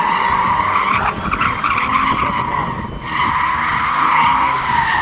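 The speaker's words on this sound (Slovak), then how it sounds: "výborná séria driftov" A car drifts at a drifting event, its tires skidding and squealing loudly and continuously, with a brief dip before the screech resumes under engine noise.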